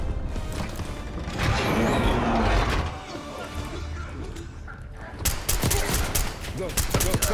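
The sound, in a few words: suppressing gunfire in Black Ops 6 video game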